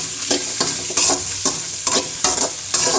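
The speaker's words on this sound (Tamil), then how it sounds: "வெங்காயம், தக்காளி, காஞ்ச மிளகா, புளி, பூண்டு, கருவேப்பிலை எல்லாத்தையுமே ஒன்றா கொட்டி நல்லா வதக்கிக்கலாம்." Onion, tomato, dried chili, tamarind, garlic and curry leaves sautéing in hot oil for beetroot chutney, a loud close sizzle broken by regular scraping stirs of a spoon against the pan, about every half second.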